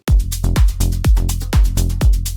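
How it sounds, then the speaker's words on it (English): A punchy kick drum thumps steadily about twice a second in FL Studio, each hit locked with a deep, gliding synth bass note, loud and alone. "a more complex example with a different kind of bass instead of just a pure sine wave"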